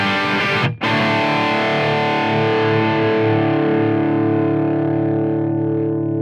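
A PRS NF53 electric guitar played through overdrive distortion rings out in one long, loud chord. It sustains for several seconds after a brief cut near the start and slowly decays.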